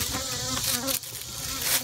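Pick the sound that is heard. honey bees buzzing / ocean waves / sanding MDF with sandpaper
honey bees buzzing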